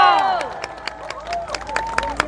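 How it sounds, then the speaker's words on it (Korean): Crowd at an outdoor political rally in Iksan clapping and cheering in scattered bursts, mixed with electronic tones and harmonic sounds from the stage. "박수 한번 주십시오"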